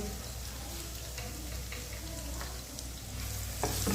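Onion and garlic fry in hot oil for a kadhi tempering, producing a loud, close, continuous sizzle with crackles and stirring scrapes throughout.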